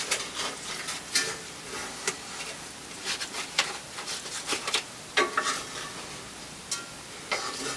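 Bacon and eggs fry on a camp stove, giving a soft, steady crackle with frequent small pops and spits, faint and close, with no talking.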